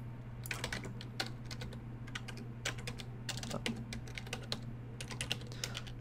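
Rapid keyboard typing and mouse clicks at a computer during node dragging in Unreal Engine 4, close and crisp in irregular bursts over a steady low electrical hum, with no talking.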